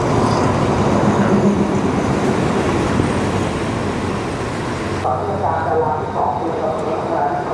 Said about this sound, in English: Hooray, the train is here.